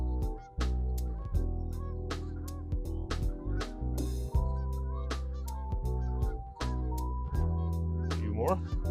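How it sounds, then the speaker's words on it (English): Geese honking loudly as they come in to land on a lake, many repeated nasal calls overlapping in an irregular chorus, close and prominent. "Geese are coming in for a landing."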